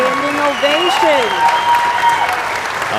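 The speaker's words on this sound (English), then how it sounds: "This is a standing ovation." Standing ovation at an archery barebow finals: loud, sustained applause from a crowd on its feet, steady and dense throughout, with a voice talking over it.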